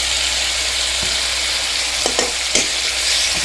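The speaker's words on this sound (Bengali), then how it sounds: "চাউলটার সঙ্গে মশলাটা ভালো করে ভেজে নেব।" Rice grains frying with spices in a pan for a Bengali fish head dish, a steady broad sizzle with a few soft scraping stirs, close and even, with no talking.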